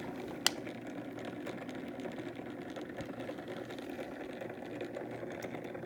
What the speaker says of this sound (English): then the motor keeps spinning